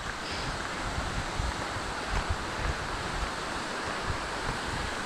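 A waterfall beside a trail during the Cloudland Canyon 50-mile trail race gives a steady, even rush of falling water that fills the whole stretch, with no talking.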